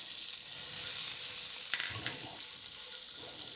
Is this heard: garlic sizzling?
yes